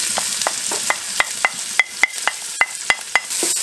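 Onion frying in oil in a Dutch oven, a soft sizzle under a steady run of about a dozen sharp clicks and scrapes from a utensil stirring against the pot, no speech.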